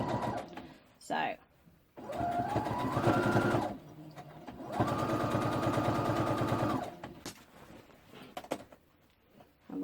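A sewing machine stitches a skirt seam in two sustained runs of rapid mechanical whirring. Short pauses and a softly speaking voice fall between them.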